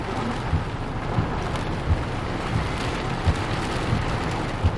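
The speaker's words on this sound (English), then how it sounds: "the rain's coming into Alderton now." Steady, heavy rain pours during a December cold-core thunderstorm near Alderton, a constant close hiss with soft low thumps of distant thunder and no voices.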